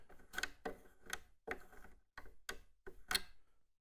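Strap-lock strap buttons on a Gretsch Electromatic G5655TG guitar are unscrewed by hand, making a quiet run of seven or eight close, evenly spaced ratcheting clicks with no talking.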